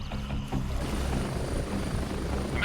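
A helicopter arrives at a landing zone for extraction in the military shooter Gray Zone Warfare, its rotor and engine roar a steady, moderately loud rumble that carries on without a break and without any talk.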